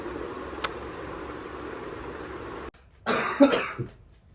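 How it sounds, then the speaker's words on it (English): A steady hum of background noise cuts out, then a short burst of coughing follows, rough and close. "My cough, when I'm coughing, I sound like Muttley."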